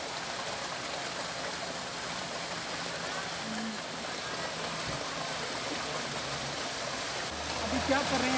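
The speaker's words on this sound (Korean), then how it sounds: "도로를 달리다 보면 바로 길 옆에 제법 큰 폭포를 만나기도 한다" Broadband rushing water from a sizeable roadside waterfall fed by glacial meltwater on the Karakoram Highway in Gilgit-Baltistan, Pakistan, a steady close roar throughout with a faint engine-like hum underneath.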